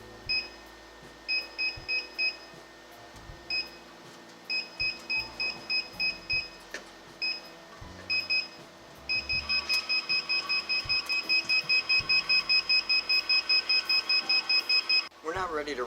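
An Evolution 2 machine's keypad gives short electronic beeps, first in scattered bursts and then a steady rapid run of repeated tones, heard close over a low hum with faint talk underneath.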